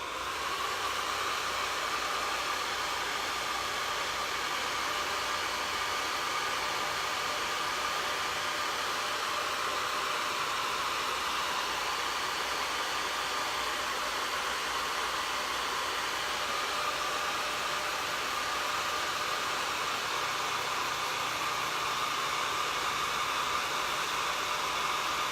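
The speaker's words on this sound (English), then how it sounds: "I'm going to dry my board real quick and then let it cool" A hair dryer blows steadily to dry a board, giving a continuous, even rushing hiss that stays loud and unchanged from start to finish, with no talking.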